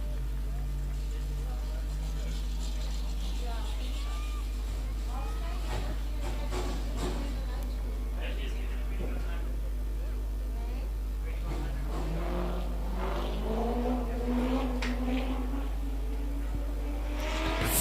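A V8 stock car engine drones and rises in pitch as it revs on an honorary lap at a regional stock car race, with an announcer talking over it throughout.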